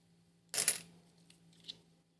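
Metal 2 euro coins clinking as they are handled and sorted, one bright close jingle of coins knocking together followed by a fainter single clink, in an otherwise quiet room.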